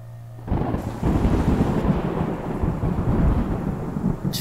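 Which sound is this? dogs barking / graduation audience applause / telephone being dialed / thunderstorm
thunderstorm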